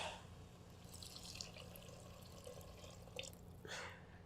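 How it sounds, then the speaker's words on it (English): Water is poured into a pan of cooked-down tomatoes in an Indian kitchen, a faint splashing and trickling with brief louder gushes near the end, no talk. "So now we're just gonna add water to this."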